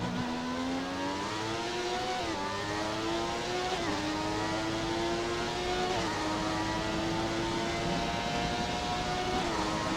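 A McLaren MP4/6 Formula 1 car races at Interlagos, its high-revving engine climbing in pitch through repeated upshifts, loud and close with a constant whine and no voices.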